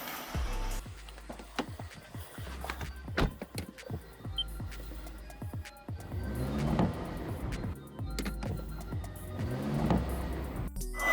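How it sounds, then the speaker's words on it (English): A car keeps running and driving with its battery removed, the alternator carrying the load; a steady low engine hum and road rumble continue throughout, swelling at times, with no one talking. "the car is running perfectly fine, even without the battery, because alternator is charging"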